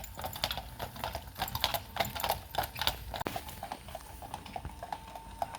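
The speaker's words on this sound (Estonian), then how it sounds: "Üles alla saab ka sõita hobukaarikuga." Horse hooves clip-clop in a steady, brisk rhythm from a horse-drawn carriage travelling up and down a hill by a castle, heard at moderate distance against a light outdoor background, with no talking.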